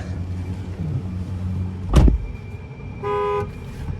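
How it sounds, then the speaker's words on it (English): A single short horn toot from a 2009 Nissan Frontier LE Crew Cab sounds clearly inside the truck, over a low idling hum, preceded by a thump. "There's the horn sound there."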